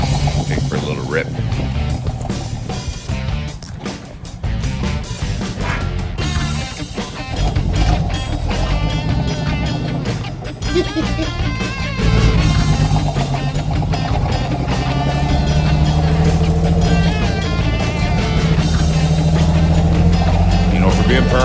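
A 1968 Dodge D100 pickup, back on the road after sitting parked for 25 years, drives with a steady, loud engine drone and road rumble that builds as it picks up speed, with wind noise throughout.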